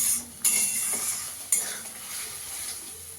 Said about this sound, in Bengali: মশলাটাকে ভালো করে এবার কষিয়ে নেব।